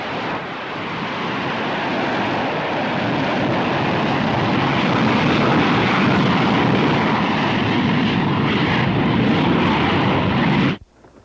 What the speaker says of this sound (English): On December 26th, the B-52s resumed their missions.